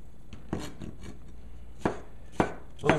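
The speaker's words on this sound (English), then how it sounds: "I just want to show you how we slice the cucumber" Knife slicing de-seeded cucumber into small pieces on a cutting board, a handful of crisp sharp chops spaced irregularly, close and clear with no speech.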